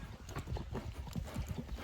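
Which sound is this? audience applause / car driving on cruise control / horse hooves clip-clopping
horse hooves clip-clopping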